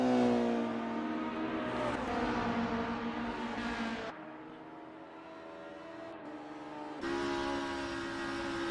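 Onboard engine of a Peugeot 406 touring car in a 90s BTCC sim race at Donington, a loud sustained drone that drops back on shifts around four and seven seconds before climbing again, with no voices.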